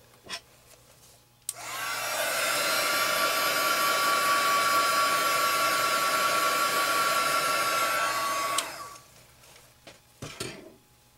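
A hair dryer switches on abruptly and blows steadily for several seconds with a whining hum while drying turquoise blue spray color on a paper card, then cuts off, followed by a few small clicks.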